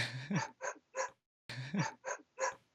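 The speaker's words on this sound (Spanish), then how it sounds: "voy a tener que parar a los perros porque si no se escucha el ladrido" Dogs bark close by in two quick bursts of three sharp barks each, separated by a short silence.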